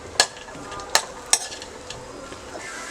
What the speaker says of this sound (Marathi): ड्रायफ्रूट्स फ्राय करून घ्यायचे आहेत.